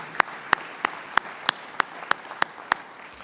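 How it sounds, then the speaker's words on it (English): Applause at an environmental foundation's live-streamed event: about ten crisp, evenly spaced claps at a slow, steady pace, each standing out sharply over a quiet room. "give a round of applause as we thank them for hosting us"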